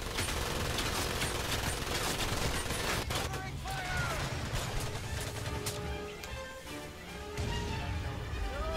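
Sustained machine gun cover fire and a dense battle fusillade in the World War II shooter Medal of Honor: Pacific Assault, loud and continuous for the whole stretch, with bursts of gunfire and shouted voices woven through the din.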